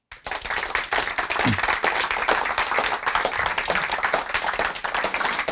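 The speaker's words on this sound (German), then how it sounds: "Applaus" A lecture audience breaks into applause, a steady, moderately close patter of many clapping hands that begins abruptly and holds evenly throughout.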